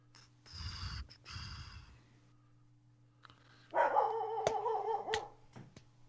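A dog gives a few close barks and snorting huffs, separated by short pauses, with a steady low hum in the background.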